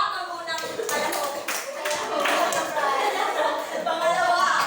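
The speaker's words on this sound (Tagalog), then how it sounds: "Bigyan ng palakpak ang unang kalahok." An audience applauds the first participant at a classroom discussion session, with steady broadband clapping from a group that continues across the clip, fairly loud and close, swelling slightly toward the end.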